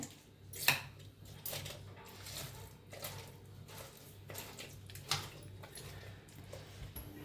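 A hand masher works roasted food in a pot, making soft squishy mashing and scattered clinks of metal against the vessel, with irregular strokes at close range and no talking.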